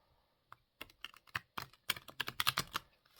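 Cards are handled in a quick series of crisp clicking and riffling taps, irregular and close, building to a dense flurry over about three seconds in a quiet room.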